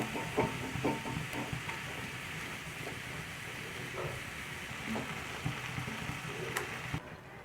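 Khoya and milk cook in a pan on a stovetop, giving a soft continuous sizzle and hiss with faint scattered bubbling pops and occasional light stirring clicks, fairly quiet and close.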